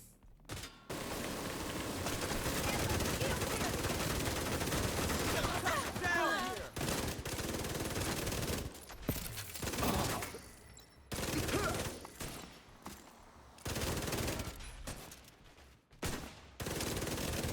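SMG fire in a video game crackles in rapid automatic bursts, with loud stretches of sustained shooting broken by short gaps and choppier volleys toward the end.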